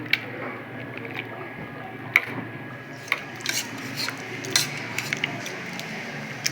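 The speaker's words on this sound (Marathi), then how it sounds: "तर आपण आता याच्याने मॅश करून घेऊ त्यांना आता" Pressure-cooked vegetables for pav bhaji mashed in a steel pot, with repeated soft squishing strokes and scattered sharp clinks of the masher against metal, close and steady over a faint background hum.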